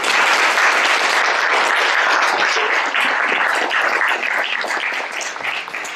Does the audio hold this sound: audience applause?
yes